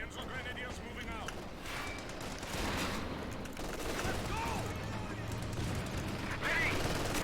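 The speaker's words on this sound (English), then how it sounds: "Taking infantry fire." Infantry small-arms fire from a WWII strategy game crackles in a dense, continuous mix with other battle noise, with radio-style voices speaking over it throughout.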